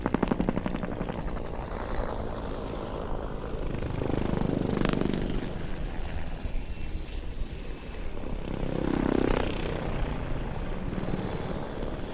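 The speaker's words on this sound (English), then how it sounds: "Four helicopters have now set up in line astern formation, one behind the other" Four helicopters in line astern formation at an airshow, rotors and engines droning continuously, swelling louder twice as the aircraft pass, with a steady low whir throughout.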